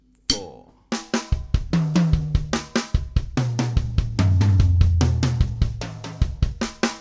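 A drum kit played close and loud in a busy fill, rapid repeated strikes on drums and cymbal-like hits in a driving sixteenth-note rhythm, with a sustained low tone swelling in the middle, no voices.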